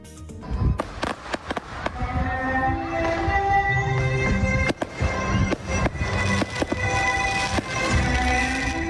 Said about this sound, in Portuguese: Os fogos de artifício são lindos, mas podem assustar e muito os pets.